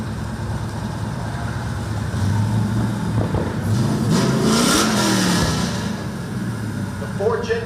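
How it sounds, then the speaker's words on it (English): Big-tire Camaro drag car at a drag strip, its engine droning loud and steady, then swelling into a hard rev with rising pitch, a sharp burst near the end. "That big tire Camaro."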